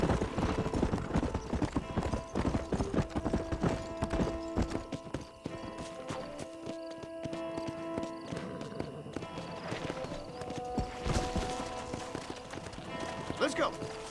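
Hooves clip-clop at a steady gallop while riding on horseback in the video game Red Dead Redemption, with rhythmic thudding close by, a horse whinny, and game characters talking over it.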